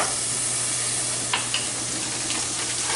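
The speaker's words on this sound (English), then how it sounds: "So now that we got some of this fat rendering now" Bacon fat rendering in a pan for carbonara gives a steady, close, even sizzle throughout, with a few faint clinks and stirring scrapes.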